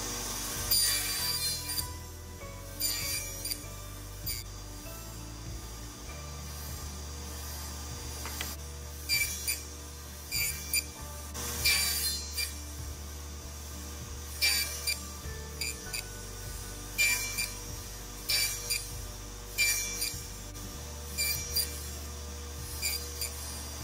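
A table saw with a crosscut sled cuts rabbets in wood, a steady machine hum broken by repeated short bursts of cutting noise, close and moderately loud, with no talking.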